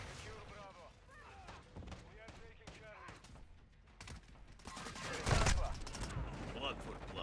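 Gunfire from enemies in a Call of Duty–style first-person shooter match, with scattered shots and bursts mixed among voice callouts; a loud blast-like burst lands past the midpoint.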